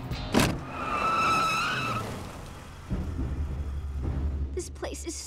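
A car speeds past with a skidding tire squeal at close range, followed by low engine rumble and the brief sounds of someone moving nearby.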